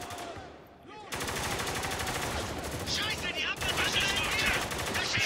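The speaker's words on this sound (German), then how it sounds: "Ich schieße ja die ganze Zeit auf das verfickte Fenster." Sustained automatic gunfire in the video game Spec Ops: The Line, aimed at a window, with rapid continuous bursts that briefly pause and then resume loud and close.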